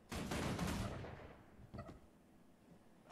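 A volley of gunfire bursts out on command in Guild Wars 2, a loud clustered crack of many shots with a short ringing tail, followed by a smaller second report as the noise fades.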